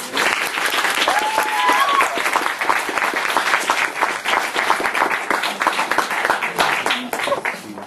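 An audience gives warm, sustained applause welcoming songwriter Kara DioGuardi onto a stage, many hands clapping in a dense patter that stays strong throughout, with a few faint voices mixed into the crowd.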